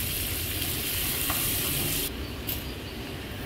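Steady sizzling of butter in a pan as crispy fried milkfish (bangus) is stirred with spicy butter garlic, a continuous close frying hiss without voices.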